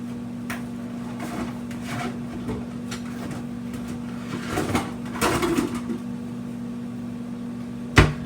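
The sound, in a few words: microwave oven running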